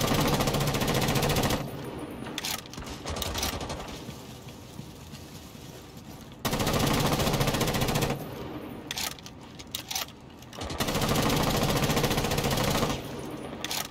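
An L4C rifle in Rainbow Six Siege fires long, rapid automatic bursts, loud and close, separated by short pauses filled with quieter ambient game noise.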